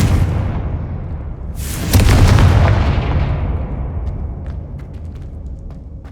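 A Confringo fire spell explodes in Hogwarts Legacy, a sharp loud blast that swells into a roaring burst, then decays into a long rumbling tail with scattered small crackles and pops, no voices.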